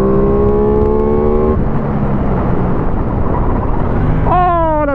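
A motorcycle arrives in a slide, its engine note droning and then rising sharply in a climbing whine near the end over a rough, noisy background.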